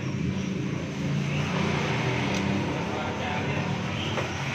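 A Nissan Livina's engine runs through its refitted original stock exhaust muffler, replacing a rusted local aftermarket one, producing a dense, steady rumble close by with little change in level.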